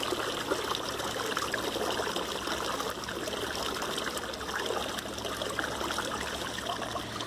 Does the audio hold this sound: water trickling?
yes